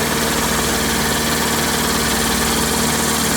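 A Dnipro-M air compressor with a 100-litre receiver runs at close range, a loud, even motor drone with a steady mechanical pulse and no talk over it.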